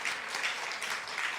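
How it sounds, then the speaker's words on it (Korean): A church congregation gives a short round of steady applause during a revival meeting, a brief burst of dense clapping heard alone. "박수 한번 쳐드리세요"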